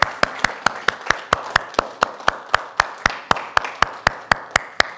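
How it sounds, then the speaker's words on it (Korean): A church congregation claps in a strict, even rhythm, loud sharp beats about four per second, repeating steadily and in unison with no voices over them. "박수로 한번 영광과 함께 박수로 한번 이렇게 했으면 좋겠습니다"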